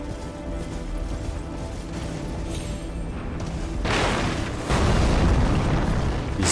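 Cannon fire in the Elden Ring video game: muffled mechanical rumbling builds into two heavy booming explosions that burst in a row and linger as loud roaring noise toward the end.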